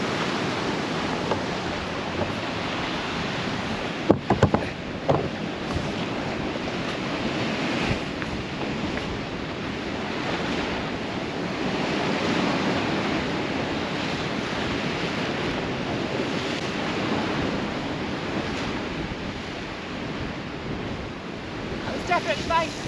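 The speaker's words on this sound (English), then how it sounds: "Them swells are getting up a bit more." Rough North Sea surf on the Northumberland shore in March, a steady broadband wash of breaking swells mixed with gusty wind buffeting the microphone, with a few sharp knocks near the start.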